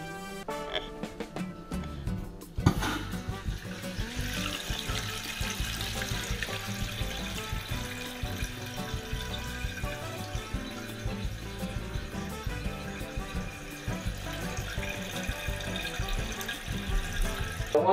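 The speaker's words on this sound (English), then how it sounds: "let's open the water and see what happens" Water rushes steadily into a newly installed toilet, a continuous loud gushing that fills the whole stretch after a brief gurgling start.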